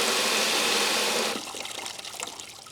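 A strong rush of rainwater pouring off the edge of a 3D-printed downspout filter abruptly drops to a lighter, uneven trickle and splash.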